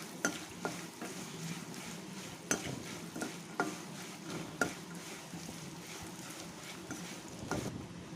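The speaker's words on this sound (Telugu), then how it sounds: "ఒకసారి బాగా కలుపుకోండి అన్నీ కలిసేటట్టు. అంతా కొంచెం ఫ్రై అవ్వాలండి." Lemon rice seasoning stirred and frying in a pan, a low steady sizzle broken by a handful of sharp spoon scrapes and clacks spaced irregularly through the stretch, with no talk.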